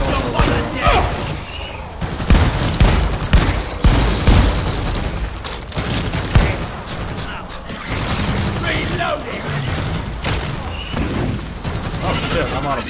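Gunfire and explosions in the video game Deep Rock Galactic, dense loud bursts and booms running almost continuously, with people talking over the chaos.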